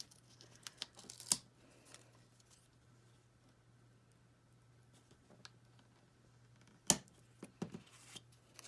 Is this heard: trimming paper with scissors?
yes